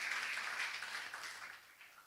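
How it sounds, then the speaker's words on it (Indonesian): A church congregation claps briefly during a sermon, a soft burst of applause that fades away within about two seconds. "Yang setuju tepuk tangan dong."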